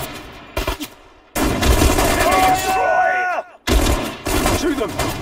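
Loud bursts of automatic and rifle gunfire from Sudden Strike 4 in a Soviet mission, dense and rapid, broken by two short silent gaps.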